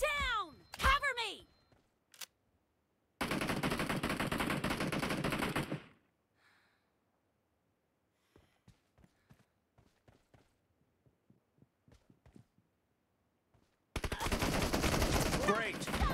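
Gunfire crackles in a team deathmatch video game: a burst of rapid shots, sustained loud automatic fire, then a scatter of single footstep-like taps and another long roar of firing, with brief voice calls at the start.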